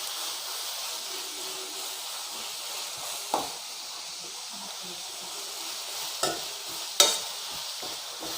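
Onions and curry leaves sautéing in a pan for an egg roast, giving a steady soft sizzle and hiss with a few brief stirring clinks near the end, quiet and continuous with no talk.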